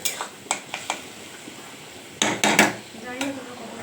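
Metal spoon stirring in a pan on a gas stove while cooking Bombay duck (loitta) curry, a series of sharp scrapes and clinks against the pan, scattered and close, with quieter stretches between.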